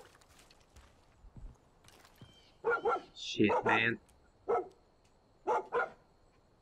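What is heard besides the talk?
dog Boomer barking in the video game Far Cry 5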